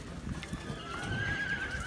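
A horse trots at liberty in a sale show ring, giving a short run of soft hoof beats and a brief high whinny. It is moderately close and no one talks over it.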